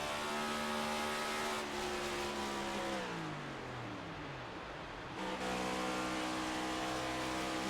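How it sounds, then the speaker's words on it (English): A sim racing car engine at Charlotte Motor Speedway drones loudly at high revs, then drops off throttle with the clutch in so the pitch sweeps down for a couple of seconds before the engine picks back up and holds steady. "you listen to that throttle rhythm, it is just completely off and clutched in when he hits in this turn"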